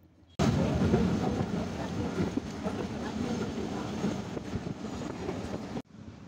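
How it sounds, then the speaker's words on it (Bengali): Sirajganj Express train running on rails in Bangladesh, a steady loud rumble and rattle of the carriages heard from on board, starting abruptly and cutting off near the end. "Sirajganj express train Jamtal rail station থেকে যাত্রা শুরু করলো"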